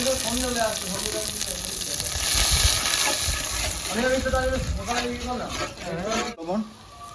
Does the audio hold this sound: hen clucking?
no